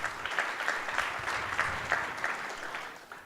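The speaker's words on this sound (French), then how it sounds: "que je vous demande d'applaudir aussi" An audience applauds a person being introduced at a website presentation, a steady round of clapping from a moderately close crowd that holds for about three seconds, then tapers slightly at the end.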